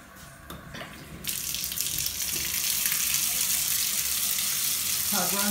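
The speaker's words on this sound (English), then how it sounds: "Tub runs good." A bathtub tap running during a pre-move-in inspection: a few faint knocks, then water gushes on and pours in a loud, steady rush close by, with a brief tone near the end.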